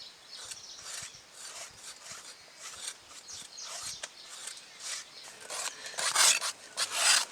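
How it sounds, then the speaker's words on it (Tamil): Snake gourd skin being scraped off with a peeler or knife, a run of short rasping strokes, faint at first and growing louder and denser toward the end, with no speech. "புடலங்காவோட மேல் தோலை நல்லா சீவி எடுத்துக்கலானோ."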